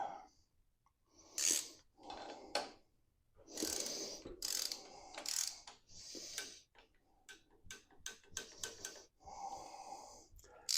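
A wrench ratchets a tapped fastener down to 11 foot-pounds of torque, giving faint irregular clicks and short scraping bursts, close by and fairly quiet.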